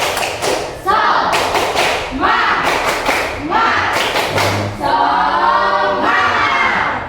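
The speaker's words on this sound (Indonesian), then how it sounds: "Tepuk semangat" Schoolchildren in a classroom perform a rhythmic group clapping routine, tepuk semangat, with sharp clustered claps and thumps in patterned bursts alongside chanted voices, loud and close.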